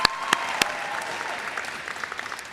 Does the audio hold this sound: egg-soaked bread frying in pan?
no